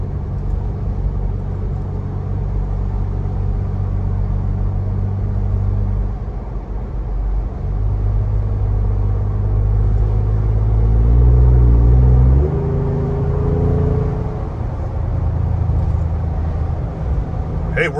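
A 2021–2022 Ford Bronco fitted with an aftermarket catback exhaust: a deep, steady idle rumble heard up close, swelling briefly into a rev before settling back to a low drone.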